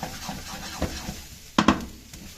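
Refrigerated egg fried rice gets tossed in a hot wok, a low background sizzle broken by a few sharp metallic scrapes and clatters of the pan, close and fairly quiet.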